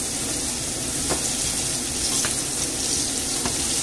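Potatoes crackle and sizzle steadily in a hot frying pan, with a few brief scraping knocks as they are stirred and moved about; close and continuous, with no talking.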